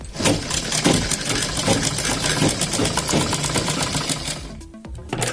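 A sewing machine stitches a strip onto a kurti neckline, a loud, close, fast rhythmic chatter that runs nearly nonstop and breaks off briefly near the end, with no speech.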